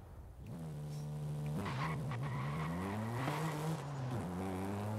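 A BMW M2 engine in the Forza Horizon racing game, revving steadily with rising and falling pitch through gear changes and tire squeal, loud and continuous with no talk.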